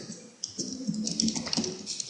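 Rapid keystrokes on a computer keyboard, a close, irregular run of light clicks and taps lasting about two seconds with no voices.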